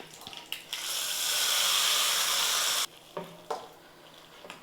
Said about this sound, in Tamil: இப்போ கருவேப்பிலை சேர்த்துட்டு ஸ்டவ் ஆஃப் பண்ணிடலாம்